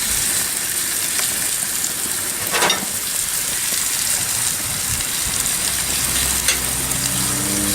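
Steak frying in butter in a hot pan, a loud steady sizzle that fills the whole stretch with faint scraping and spattering, no voices.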